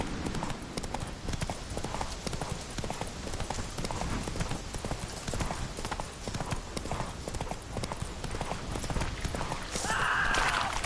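The horse Roach gallops in a video game with quick, steady hoofbeats that drum on without a break, and a brief bright tone near the end. Quiet game voices can be heard under the hoofbeats.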